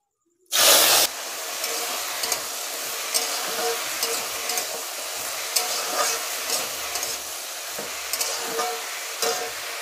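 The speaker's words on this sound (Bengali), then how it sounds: "ফোড়ন দিলাম, একটু হিং দিলাম, আর একটু কারি পাতা দেব" Hing and curry leaves hit hot oil for tempering roti tarkari spices, giving a sudden loud burst of sizzling that settles into a steady, crackling fry with occasional pops and stirring, no talking.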